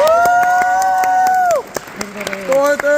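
Audience applause welcoming a speaker at a talk, quick claps running beneath a loud sustained tone and cheering voices, growing busier toward the end.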